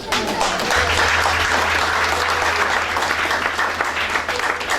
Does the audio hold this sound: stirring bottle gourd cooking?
no